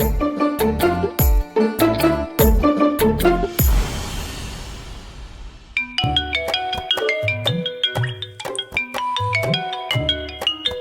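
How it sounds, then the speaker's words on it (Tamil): A mobile phone ringtone for an incoming call in a Tamil TV serial plays a loud, bright, repeating melodic tune with a steady beat. It runs continuously with no talking over it. "சூர்யாக்கு ஃபோன் வருதே."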